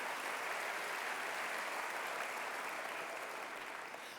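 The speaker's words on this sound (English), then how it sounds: "let's give them a round of applause" A large audience applauds student athletes at a university athletics stole ceremony, a dense, even roar of clapping heard from some distance in a big hall, sustained throughout and tapering slightly at the end.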